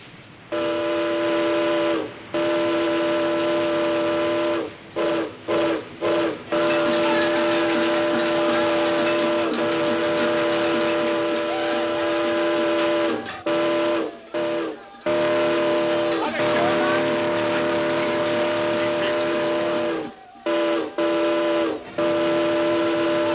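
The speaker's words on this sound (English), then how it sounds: "Sound the whistle." A loud, sustained multi-tone whistle blows in long blasts, cut by several brief pauses and short bursts, dominating the whole stretch.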